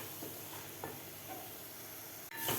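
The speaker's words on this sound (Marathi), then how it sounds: "एक मिनिटभर आपल्याला हे मसाले परतून घ्यायचे आहेत खालच्या कांद्याच्या प्युरीबरोबर" Spice masala sautés with onion puree in a pan for a dhaba-style baingan masala, a quiet, steady low sizzle with a few soft stirring scrapes.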